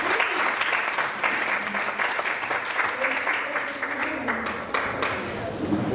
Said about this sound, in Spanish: Recibimos entonces al doctor Calderón con un fuerte aplauso.